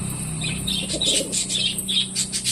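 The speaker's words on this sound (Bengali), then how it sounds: "আমাদের পাখিগুলো কুটুর কুটুর কুটুর কুটুর করে বেড়াচ্ছে।" Pet pigeons coo and flutter close by, their low calls mixing with brief bursts of wingbeats and light chirps in quick succession, and no voices.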